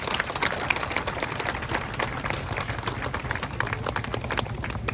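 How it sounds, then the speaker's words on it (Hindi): Audience clapping at a parish gate inauguration ceremony, a steady, dense round of applause filling the space with scattered sharper claps, held at an even level throughout. "एक बार जोरदार तालियां बजा देंगे।"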